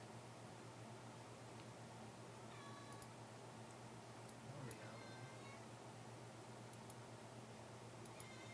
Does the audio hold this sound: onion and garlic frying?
no